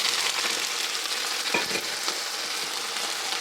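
Onion frying in hot oil with coriander, cumin, ajwain and fenugreek, a steady close sizzle with brief stirring scrapes, no voices.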